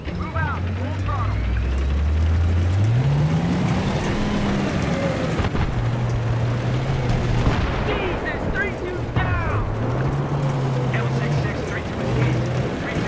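Armored vehicle in Battlefield 3 driving at full throttle, a continuous loud low engine drone rising in pitch as it accelerates, steady throughout with rumbling battle noise and distant bursts mixed in.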